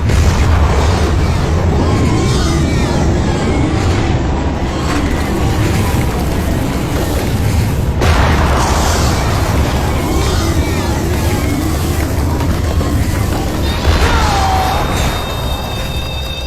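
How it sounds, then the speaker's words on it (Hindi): Loud, dense action-scene soundtrack from an Indian South movie with repeated booming bomb blasts and bursts layered over music and effects, sustained throughout with a sharp hit near the middle. "जितने बॉम्ब्स लगे हैं उन्हें दिवाली के पटाखे समझ रहा है।"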